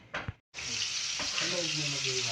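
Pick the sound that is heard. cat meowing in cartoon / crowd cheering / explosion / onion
onion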